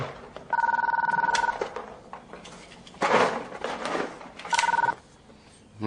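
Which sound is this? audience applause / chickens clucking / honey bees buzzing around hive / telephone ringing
telephone ringing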